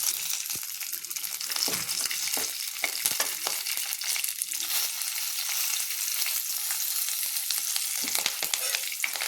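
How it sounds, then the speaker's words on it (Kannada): Garlic frying in a little oil for an onion chutney, a bright crackling sizzle with scattered pops and stirring clicks, close and steady without speech. "ಸ್ವಲ್ಪ ಹಾಗೆ ಬೆಳ್ಳುಳ್ಳಿನೂ ಹುರ್ಕೋತೀನಿ ನೋಡ್ರಿ"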